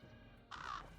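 A single crow caws in the Lord of the Rings Online video game, a short harsh call that rises over a steady background of in-game ambience.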